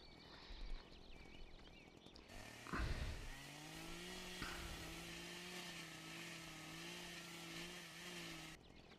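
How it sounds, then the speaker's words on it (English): A chainsaw in a farming simulator game starts up and runs as a steady, buzzing engine drone for several seconds while cutting logs, then cuts off abruptly. No voices are heard. "let's grab our old chainsaw here. We'll start hacking up"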